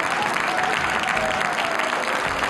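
Steady, dense applause from an audience at the end of a quiz game, many hands clapping at once in a continuous wash of sound with no pauses, fairly close and loud.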